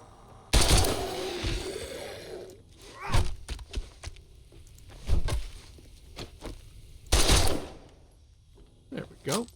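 Shots from a small gun in modded 7 Days to Die: several sharp, punchy reports spaced irregularly, some in quick pairs, with thuds and footsteps between and talking mixed in.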